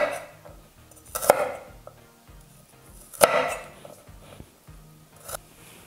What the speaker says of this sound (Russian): одну головку чеснока нарезаю на дольки. Чеснок режу крупно.